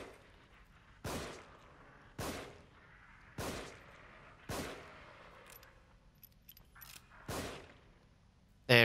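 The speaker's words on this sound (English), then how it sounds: "go ahead and start shooting him in the head, because he'll get up no matter what" Gunshots fired at an enemy's head in The Evil Within, a survival horror video game: five loud, sharp reports at roughly one-second intervals, then a pause with faint clinks and one more shot, with no talking.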